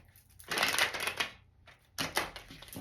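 Tarot cards shuffled and drawn by hand, a faint papery riffle and slide in two short bursts separated by a brief gap, quiet and close.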